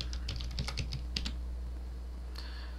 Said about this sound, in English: And can type your password.